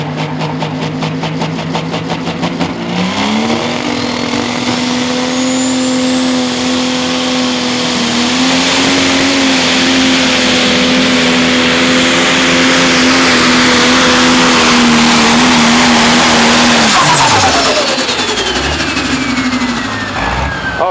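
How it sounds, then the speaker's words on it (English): A pro stock pulling tractor at a county fair tractor pull in Warren, Illinois roars loud and steady at full power as its tires spin, the engine note climbing briefly before the engine is shut down and winds off near the end. "other than spinning them tires and working that tractor to the bitter end, he just shut her down"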